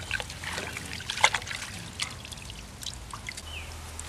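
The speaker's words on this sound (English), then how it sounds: "I think I'm gonna wash off the dirt so I can get a better look at the roots." Water trickles and pours steadily while dirt is washed off the roots of a struggling tomato plant outdoors, a soft continuous splashing with a few brighter splashes and faint birdsong in the background.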